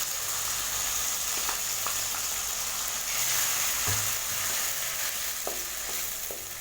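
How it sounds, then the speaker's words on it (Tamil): Ground mint paste hitting a pan of sautéed onions and cashews in oil for mint rice, giving a dense, continuous sizzle with scattered stirring taps and scrapes, no talking. "இப்போ இதோட நம்ம அரைச்சி வச்சுருக்கிற புதினா பேஸ்ட்டை இதை சேர்த்திடலாம்."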